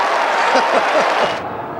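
A football crowd at an Australian rules match roars and applauds after a Wayne Carey goal, a dense, loud wash of cheering and clapping that drops off sharply near the end.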